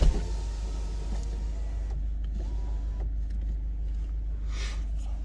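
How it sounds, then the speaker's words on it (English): A steady electric motor whir of power windows lowering in a 2022 VW GTI Mk8, heard close inside the car over a low engine rumble, with a brief higher whine near the end. "Put all the windows down."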